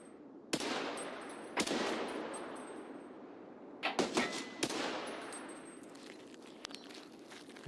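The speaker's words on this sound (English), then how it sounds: "This guy just tried to shoot me with an AA-12 at 100 meters." An AA-12 shotgun in the game Escape From Tarkov fires from about 100 meters away, several sharp but fairly faint shots spaced a second or so apart, with a quick cluster near the middle and echoing tails.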